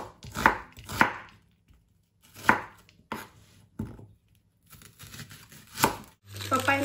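A knife chops an onion against a cutting board in uneven bursts, several crisp strikes spaced apart, close up with quiet gaps between.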